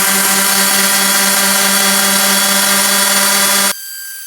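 Wet sanding an epoxy-coated desk top with a power sander gives a loud, steady whirring drone with a constant hum, close up, before the motor cuts off abruptly near the end, leaving quieter noise.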